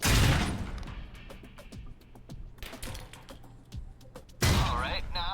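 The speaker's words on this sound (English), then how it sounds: "Grenade out." A loud blast opens a firing range in Alpha Protocol, followed by a quieter run of scattered shots and clicks, then a second burst near the end.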